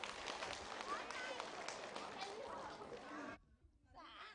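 Audience applause at a Vietnamese community celebration for International Women's Day in Teplice, sustained dense clapping from a crowd that stops abruptly near the end, followed by a brief quieter patch of background sound.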